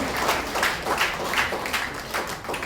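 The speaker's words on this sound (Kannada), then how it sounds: "ದಯವಿಟ್ಟು ಎಲ್ಲ ವಿದ್ಯಾರ್ಥಿಗಳು ಚಪ್ಪಾಳೆ ಮೂಲಕ" Students clap together in a dense, steady round of applause with rhythmic surges, filling the room at a fairly close distance.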